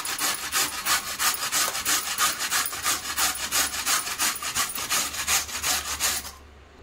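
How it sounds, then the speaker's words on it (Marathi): Carrots scraped on a hand grater in steady, rhythmic strokes, close and loud, about two per second, ending abruptly near the end with no voices. "आता आपल्याला गाजर किसून घ्यायचं आहे किसणीने।"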